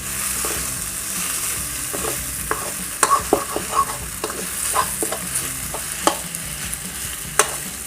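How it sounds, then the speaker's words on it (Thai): Marinated chicken breast is stir-fried with glass noodles and holy basil in a pan, giving a steady sizzle with repeated scraping clicks from a spatula at close range and no talk. "เดี๋ยวผัดให้ ตัวไก่เรา เกือบจะสุกเลยนะครับ"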